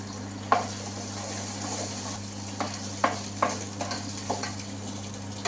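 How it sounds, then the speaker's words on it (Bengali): Chopped onion sizzling in a hot pan while noodles are being made, a soft steady fry under a low hum, with several sharp stirring or scraping knocks scattered through. "এখন নুডলটা বানানোর জন্য পেঁয়াজ কুচি ঢেলে দিলাম।"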